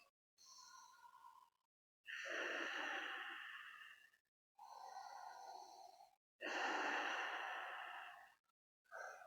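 Slow, deliberate yoga breathing during a flowing leg-focused sequence, about two full inhale-exhale cycles, each breath a long soft airy rush close to the microphone with short quiet pauses between.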